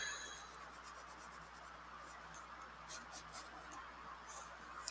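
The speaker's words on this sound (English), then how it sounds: "I'm just going to blend that and make sure that my graphite goes all the way up to the top" Graphite pencil shading being blended across paper, a soft, steady, faint rubbing that runs continuously close by with a few slightly louder strokes near the end.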